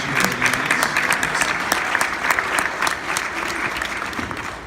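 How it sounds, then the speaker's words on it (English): A crowd at a volunteer awards ceremony claps in steady applause, a dense patter of hands continuing throughout at moderate volume. "another round of applause"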